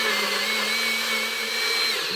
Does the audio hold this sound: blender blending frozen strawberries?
yes